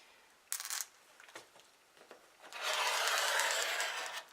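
Quilt binding fabric is cut into strips, with scattered light taps and rubbing of a ruler, then a long dry rasping cut of a blade running through the fabric, close and alone.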